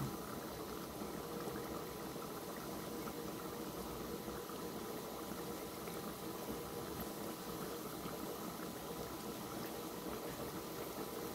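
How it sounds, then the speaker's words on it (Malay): Beef simmering in a pot of water for a home-cooked curry, a steady, continuous bubbling and rolling boil heard up close throughout with no talking. "Sementara belum masak tu ambillah daging tu rebus dulu kan."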